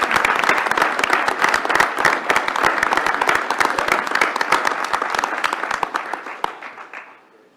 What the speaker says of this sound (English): let's give him a round of applause and thank you for his presentation